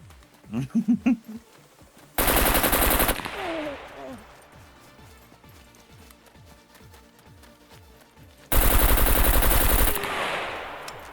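Bursts of rapid automatic gunfire in the video game SCUM, two loud sustained volleys with scattered shots and clattering footsteps between them, game-style combat audio.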